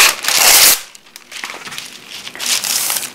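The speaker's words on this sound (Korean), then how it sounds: "바닥에 달라붙지 않도록 이렇게 유산지를 한 장 깔아주시고" A sheet of parchment paper is spread on an oven baking pan, giving loud, close crinkling and rustling bursts at the start and end with quieter handling rustles between.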